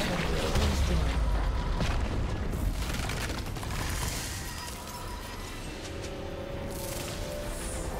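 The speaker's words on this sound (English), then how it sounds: "Turret has been destroyed." In League of Legends, a turret blows apart with a deep rumbling boom, then the game's layered effects and mechanical clatter carry on at a steady level and gradually fade.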